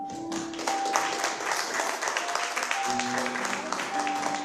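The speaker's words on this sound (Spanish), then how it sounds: "Dale un aplauso al Señor." A church congregation applauding during a Spanish-language sermon, a broad continuous clatter of clapping with sustained tones from music running underneath.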